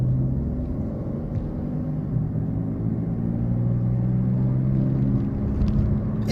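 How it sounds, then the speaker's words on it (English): Inside a 2014 Chevrolet Impala driving with a noisy worn rear wheel hub, a steady, loud low rumble and road drone continue without a break and without talk. "I'm going to see if I can pick up the noise that I'm getting from the wheel."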